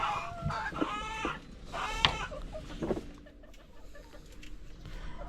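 Chickens, one with a head wound, cluck and squawk in a short burst of several calls close by, then the sound quiets to a low background hum.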